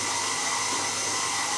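A stand mixer with a creaming paddle beats cake batter for chocolate cake, giving a steady, loud, even motor whir that runs unbroken, with no talking.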